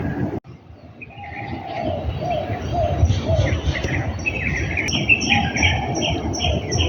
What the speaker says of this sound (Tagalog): Ang ganda ng huni ng hibon dito.